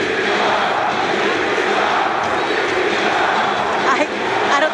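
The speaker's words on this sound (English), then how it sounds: "I don't think we've ever heard a crowd like this before" A wrestling arena crowd in Tbilisi roaring and cheering, a dense, loud, continuous wall of voices with a brief surge near the end.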